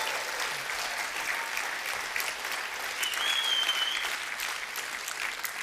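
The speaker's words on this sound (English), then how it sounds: "Let's give them the biggest round of applause." Big, sustained applause from a conference crowd, dense clapping that holds steady and swells slightly midway, with a faint whistle or cheer riding over it and no clear speech.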